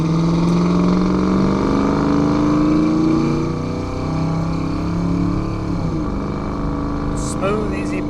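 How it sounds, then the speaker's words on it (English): A 1989 Ford Mustang GT with a 5.0 engine and automatic transmission, 13K miles, pulls forward under throttle on a test drive, its engine droning steadily with a slowly rising pitch, heard from inside the car. "Roll into the throttle here a little bit."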